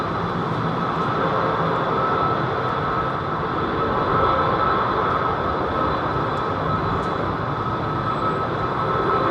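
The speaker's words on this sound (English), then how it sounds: "Nice old MEA 330-200 with Rolls-Royce Trent 7s" A Middle East Airlines Airbus A330-200 with Rolls-Royce Trent 700 engines departing London Heathrow, heard as a loud, steady broadband jet roar with a faint high whine that swells slightly midway, with no voices.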